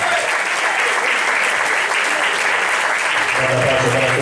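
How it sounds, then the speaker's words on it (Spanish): A crowd at a Spanish-language event claps steadily and loudly for the full stretch, with a dense, unbroken wash of applause. "Con aplausos para entrega Irene."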